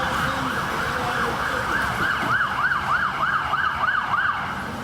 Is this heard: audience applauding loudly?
no